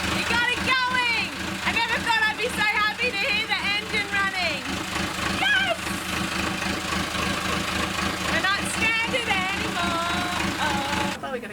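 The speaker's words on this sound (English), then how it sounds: "I never thought I'd be so happy to hear the engine running." A repaired yacht engine chugs steadily at idle with a rhythmic knocking pulse, while excited voices talk and cheer over it throughout.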